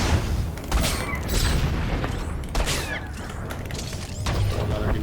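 A grenade goes off in Star Wars: The Old Republic amid a firefight: loud booming blasts and crashes with whooshes, including several sharp bursts, over a constant rumbling combat bed.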